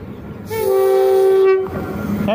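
A TCDD E 68 071 electric locomotive hauling an ore train near Niğde sounds a loud, sustained horn blast of about a second, with rolling rail noise under it before and after.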